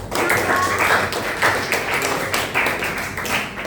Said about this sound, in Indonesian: Kembali applause untuk Nahwa.